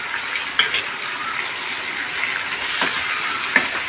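Tomatoes sautéing in a pan for chicken curry, a continuous close sizzle and fry with a few stirring scrapes and clicks, no talk.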